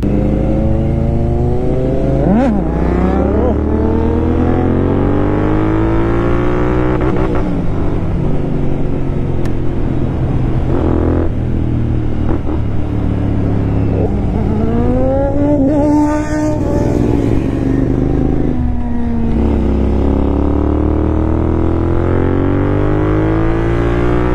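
A Kawasaki Z900 motorcycle engine roars continuously through a ride, loud and close, its pitch sweeping up and down through repeated throttle changes and gear shifts, with the occasional sharp crack of a backfire.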